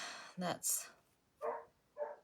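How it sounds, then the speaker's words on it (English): A dog barks nearby in a quiet indoor setting, a few separate sharp barks spaced over about two seconds, loud against near silence. "she hears me, so she's barking"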